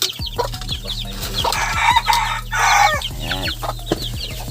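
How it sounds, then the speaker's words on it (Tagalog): Hens cluck steadily close by while chicks peep in rapid high chirps, with a rooster crowing among the farmyard noise. "Ito, may sisiw tayo rito. May inahin."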